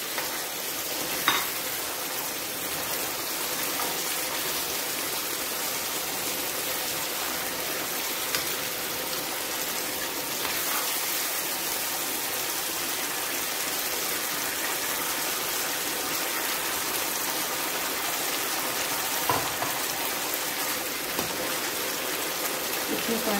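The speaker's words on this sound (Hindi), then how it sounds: "एक कप पानी डाल दिया मैंने।" A cup of water poured into a pan of cooking chicken shashlik with vegetables sets off a steady, even sizzle and bubbling that lasts throughout, with a few faint clinks from the pan.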